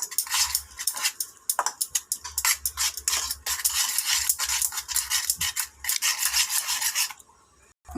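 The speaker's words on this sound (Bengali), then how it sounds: "এটাকে ফাটিয়ে নিচ্ছি, ডিম আলু পেঁয়াজ লঙ্কা হলুদ নুন।" Eggs with potato, onion, chili, turmeric and salt are beaten hard in a bowl. Rapid, rhythmic scraping strokes sound loud and close, continuing almost nonstop before stopping near the end.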